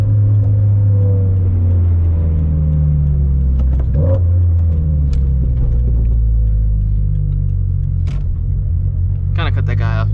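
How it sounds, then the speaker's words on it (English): A turbocharged GT86/BRZ/FRS with a lightweight flywheel idles and rumbles nearby, its drivetrain chattering under a steady low engine drone, with brief revs and passing road noise while a voice talks over it. "hear that chatter with the lightweight flywheel though"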